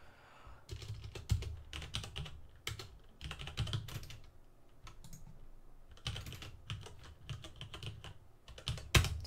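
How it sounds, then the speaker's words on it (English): Quick bursts of typing on a computer keyboard, with clustered clacking keystrokes broken by brief pauses and heard up close in a quiet room. "Look, I can type this."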